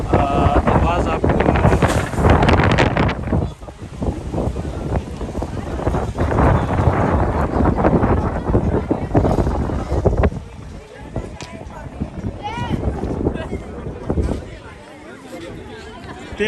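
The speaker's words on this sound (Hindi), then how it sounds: "तेज़ हवा चल रही है" Strong wind buffets the microphone in heavy gusts at Daman-e-Koh park in Islamabad while someone talks through it in Hindi-Urdu, the roar easing toward the end.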